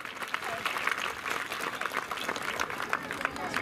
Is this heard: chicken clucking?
no